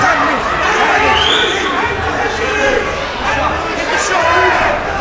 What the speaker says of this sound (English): the crowd picking up on every little thing he does, luring his name.